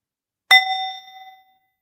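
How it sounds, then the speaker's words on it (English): A ceremonial bell closing a gathering gives one bright, clear strike that rings out and decays smoothly over about a second, alone in otherwise silent surroundings. "Gonna ring the bell here"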